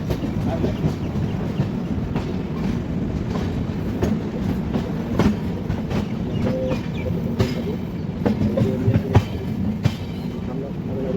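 The Pragati Express passenger train leaving Pune Junction rumbles steadily along the rails with a rhythmic clatter of wheels, loud and continuous, with faint voices now and then.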